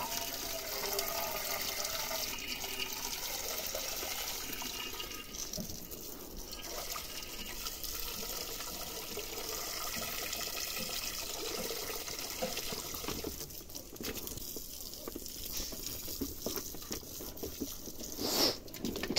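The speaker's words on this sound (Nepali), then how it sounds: "यहाँ हालिदिनु पर्यो पानी।" Water splashes and patters over a pig being bathed in summer heat, a close, continuous wet trickling and spattering that runs throughout with faint background sounds.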